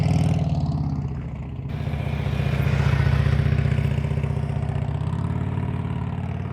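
A motorcycle engine idles and putters at low speed as the rider works slowly through a cone practice course, a close, steady mid-pitched throb that swells slightly and then eases off.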